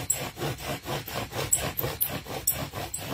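A bow drill spindle is worked back and forth in a carved wooden fire board, making a steady rhythmic rasping rub of about three strokes per second, close and fairly loud, with no talk.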